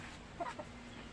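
A pet chicken gives a couple of short, soft clucks nearby, brief and fairly faint against a quiet backyard background, just before being bathed in water to remove lice.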